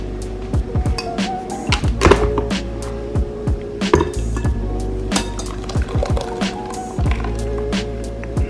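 Blended carrot, ginger and lime juice strained through a kitchen strainer, producing wet, irregular sloshing and dripping with small clinks and taps close up.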